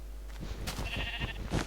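A single short sheep bleat in Minecraft, wavering and slightly synthetic, heard clearly over a low steady hum.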